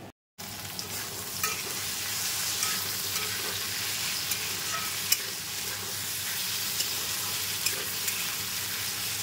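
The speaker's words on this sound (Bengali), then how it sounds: "তো চলো ডালটা এখন এই যে ফোড়ন দিয়ে দেবো" Whole spices for a dal tempering sizzle in hot oil in a home kitchen, a continuous close crackling hiss with faint spatters and no talk.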